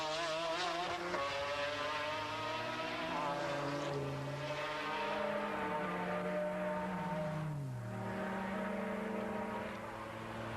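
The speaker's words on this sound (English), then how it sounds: "We zien hier de strijd tussen McLaren en Porsche." McLaren and Porsche race cars, including the Porsche number 25, duelling on a circuit; their engines whine continuously with rising and falling pitch as they shift and chase each other.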